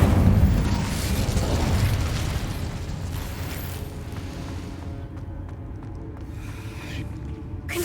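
Casting the Incendio fire spell in Hogwarts Legacy produces a loud, close whooshing burst of flame. It starts with a heavy low-end roar, then thins into a crackling, fading rush, with no voices.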